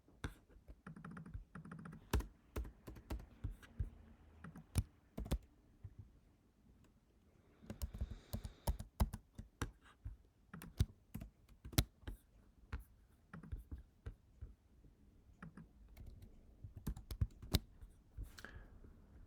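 Someone types a message on a computer keyboard, with irregular runs of close, crisp key clicks and brief pauses between bursts throughout.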